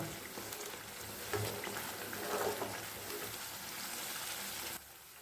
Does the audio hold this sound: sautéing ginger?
yes